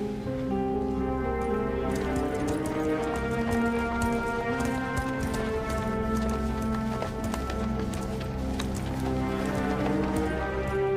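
Horses' hooves clip-clop in a steady, brisk rhythm across a Western film scene, moderately close, over a sustained musical score.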